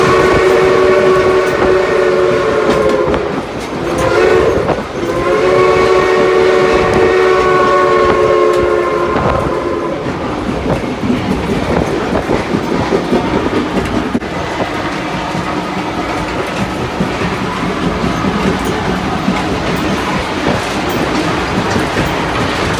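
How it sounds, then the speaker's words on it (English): A Reading & Northern passenger train rolls on, heard from the vestibule between a dome car and a coach: loud rumbling wheels and clatter, with long horn blasts sounding twice early on, then steady rail noise. "Here is the view and some of the sounds from the vestibule between the dome car and one of the coach cars."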